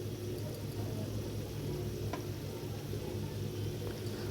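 Onion, ginger, garlic, chili and spices frying in a pan give a low, steady bubbling sizzle with a faint occasional scrape, heard close and without any talk.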